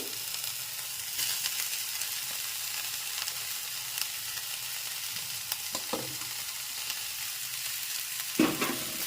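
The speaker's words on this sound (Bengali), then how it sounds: "গাজর আর বিট একটু নেড়ে চেড়ে নিতে হবে" Carrots and beetroot sizzle in a frying pan under a steady hiss, with scattered scraping knocks as a spoon stirs the vegetables.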